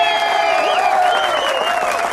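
Loud, sustained applause from a crowd in a police station confrontation film scene, dense clapping running steadily throughout.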